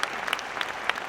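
Brief burst of audience applause at a regional business awards ceremony, dense scattered clapping heard faintly from a distance for about a second.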